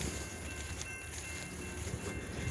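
Freight train on the Queen Railroad near Valliant, Oklahoma, at night: a low, steady rumble of rail cars at a standstill or creeping slowly, moderately close, with no voices.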